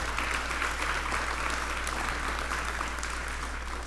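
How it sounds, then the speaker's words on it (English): Audience applause at the Grant Center ribbon cutting ceremony: a dense, steady wash of many hands clapping at even loudness for the whole stretch, with no pauses. "give them a round of applause"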